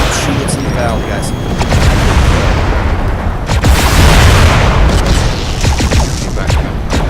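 Mech weapons fire and explosions in the Mechwarrior Living Legends video game, a dense, continuous barrage of booms and blasts with sharp bursts, loudest in the middle stretch, with players talking over the combat.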